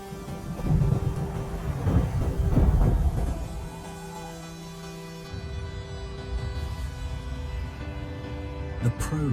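Low rumbling thunder rolls and swells over a sustained droning backdrop, fading to a quieter hum with a sharp crack near the end.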